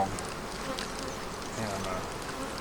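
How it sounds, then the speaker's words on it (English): A low, steady buzzing of many honey bees on hive frames fills the air, close and continuous, without any distinct breaks. "several frames of bees up here now compared to what I had before"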